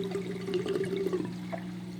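Water rushes and gurgles steadily through an aquarium overflow as a full siphon is forced, a continuous close flow with a low steady hum underneath.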